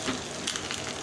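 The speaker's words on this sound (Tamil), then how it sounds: "கடுகு உளுந்த முறுக்கு போட்டு கருவேப்பிலை" Mustard seeds, urad dal and curry leaves tempering in hot oil, a dense, steady close-up sizzle with fine crackling and popping throughout.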